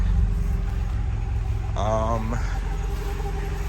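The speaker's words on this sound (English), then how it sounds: "So you can see cars running." A 2001 Honda Prelude engine idles steadily after a crankshaft sensor replacement, a constant low rumble close by, with a brief higher tonal sound partway through.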